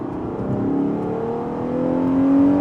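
Ferrari Purosangue SUV with a 715-horsepower 6.5-liter V12 pulling away, engine tone rising smoothly and steadily over a couple of seconds, heard from inside the cabin at moderate volume.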